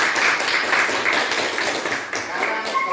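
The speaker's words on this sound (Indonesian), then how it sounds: "Oke, tepuk tangan dulu." A classroom of students claps together after a group presentation, a dense, steady patter of many hands that holds for about three seconds with a brief dip near the end.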